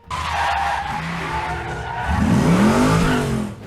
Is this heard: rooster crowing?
no